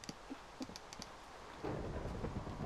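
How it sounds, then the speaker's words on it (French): Thunder rumbles low during a rainstorm, with a steady wash of rain that swells partway through alongside scattered drips, heard without talk. "Eh, il y a de l'orage."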